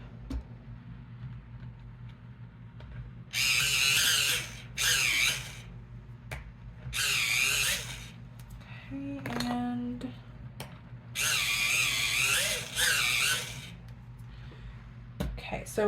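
Warm gray colored pencils are ground in a sharpener in several short, loud bursts of whirring and grinding with pauses between them, near to the listener, over a low steady background hum.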